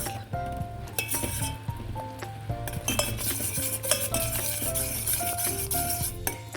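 Melted jaggery syrup being stirred in a pan, with continuous scraping and clinking of a metal spoon against the pan's sides, close and busy, under a tonal musical background.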